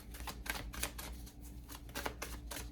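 Tarot cards being shuffled by hand, a run of quick papery riffles and soft slaps in uneven bursts, close and fairly quiet.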